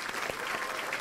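A studio audience on a Vietnamese TV show claps along in rhythm with a singer, a dense, continuous wash of applause.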